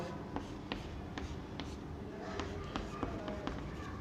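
Chalk or marker on a board during a chemistry lecture on aromatic nucleophilic substitution, faint scattered taps and short strokes over quiet room tone.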